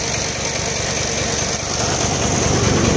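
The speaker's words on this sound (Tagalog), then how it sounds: "Patayin ko na ang aking makina." Diesel engine of an Isuzu 10PD1 dump truck runs steadily nearby, a dense rattling drone that rises slightly in loudness toward the end, with no talking.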